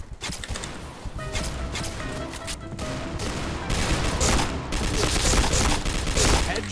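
Rapid pistol gunfire from the online shooter Point Blank, a dense run of sharp shots that grows louder and busier toward the end, with faint game noise underneath and no talk.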